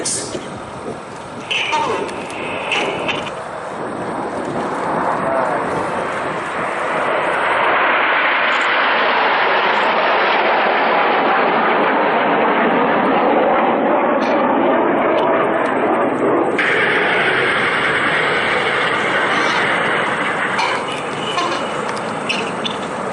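A Hawk jet trailing coloured smoke makes a display pass at the New York Air Show at Stewart International Airport, a loud sustained roar that rises and swells as it approaches, then shifts in tone as it passes, with a commentator talking over it.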